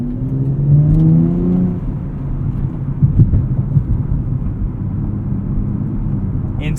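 A 2024 Nissan Z Nismo with a 9-speed automatic cruises on rough Michigan roads, its engine a steady low hum beneath constant road and tyre rumble, with a rising whine early on that then settles.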